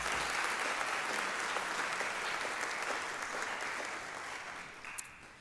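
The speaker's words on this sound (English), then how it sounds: "can we all just clap for her?" Sustained applause from an audience at a senior awards and scholarship ceremony, a dense steady clapping that stays loud throughout and fades slightly near the end, with no voices over it.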